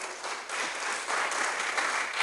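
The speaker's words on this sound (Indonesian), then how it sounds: "Tepuk tangan untuk Tuhan saudara." A church congregation at an evening service claps together in steady, dense applause that swells slightly partway through, filling the space with no voices.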